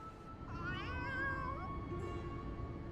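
Cat meowing in Final Fantasy XIV, a short drawn-out meow followed by a fainter second one over low steady background game ambience.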